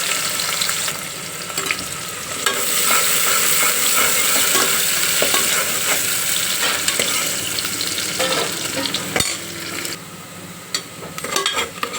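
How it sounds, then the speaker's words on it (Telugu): Sliced raw onions and half-fried onions sizzle in a pot for mutton curry, a loud close crackle with repeated stirring scrapes and utensil clinks. "ఇప్పుడు కట్ చేసుకున్న ఉల్లిపాయలు సగం వేయించిన ఫ్రైడ్ ఆనియన్స్ సగమేమో కూరలు వేసుకుంటున్నాం"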